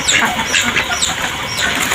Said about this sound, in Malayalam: ചാത്തൻ കോഴി, നമ്മുടെ ചാത്തൻ കോഴി ഉണ്ടത് വെളുത്തിട്ടും കറുത്തിട്ടുള്ള ചാത്തൻ കോഴിയാണ്.